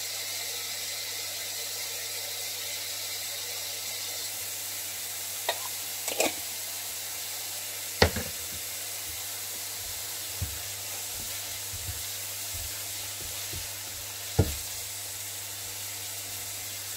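Onion fries in a little oil with salt, making a continuous low sizzle close by, broken by scattered clicks and scrapes of stirring.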